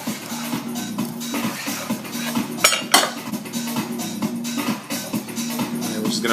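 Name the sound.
plating a cooked steak on a dish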